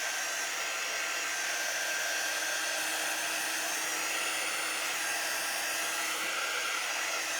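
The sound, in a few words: hair dryer drying a chalk surface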